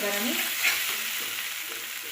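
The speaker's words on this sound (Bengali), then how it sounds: "দেখো এই যে টমেটো দিয়ে আমি 1 মিনিটের মতন কষিয়ে নিয়েছি" Spice masala and tomato fry in oil in a pan for an eggplant dish, giving a soft continuous sizzle with light stirring close by.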